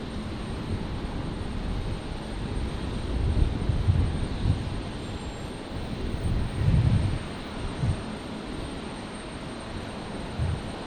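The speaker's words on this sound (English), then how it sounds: "the Qantas 73 there looks like it's heading over to 19 right for departure" A Qantas Boeing 737 taxis toward the runway for departure at Brisbane Airport at night, a faint, distant, steady engine hum with soft low rumbles under open-air background noise.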